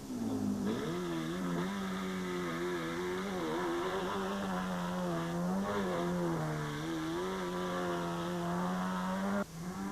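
A rally car with a broken exhaust roars hard and raw at the 2007 Toyota Dealer Rally, revs rising and falling continuously for several seconds, loud and close, with a harsh, blatty exhaust note.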